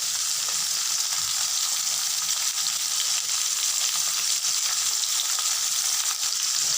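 Fried potato, eggplant and pumpkin sizzle in a pan after a ground ginger-cumin paste and turmeric are added, giving a steady, close hiss throughout with no talking.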